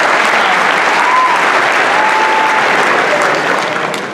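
A large audience applauds steadily and loudly at an Eritrean Independence Day gathering in Washington DC in 2019, the dense clapping running the full length before easing slightly at the end.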